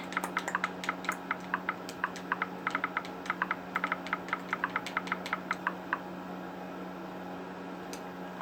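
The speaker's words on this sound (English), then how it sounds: "I'm on Google on my Xbox, so that's what the clicking sound is" Rapid, close clicks of keys tapping out text while searching Google on an Xbox, coming in quick uneven bursts over a steady low hum and then stopping near the end.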